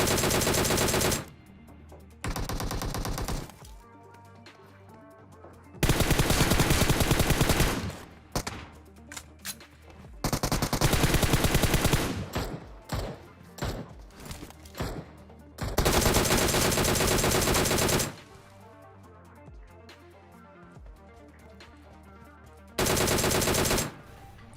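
Gunfire in the PUBG Mobile video game with a Mini 14 rifle in a solo-versus-squad match, loud sustained automatic bursts alternating with rapid single shots and brief quieter gaps, close and dominant throughout.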